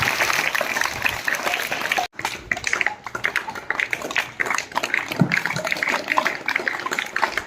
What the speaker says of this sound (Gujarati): તાળી પાડો, હવે તાળી પાડો.